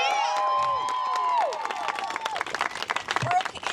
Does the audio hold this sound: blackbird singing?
no